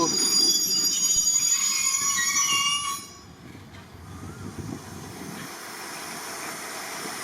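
A freight train of bogie hopper wagons rolls past with loud, steady rumbling and metallic wheel squeal, the noise dropping somewhat midway as wagons continue clattering by without talk.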